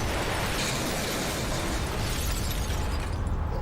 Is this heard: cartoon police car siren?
no